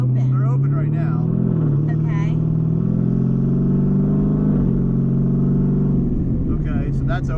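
A twin-turbo Camaro ZL1 engine with exhaust valves open idles with a deep, loud burbling exhaust note, steady throughout, while people talk over it.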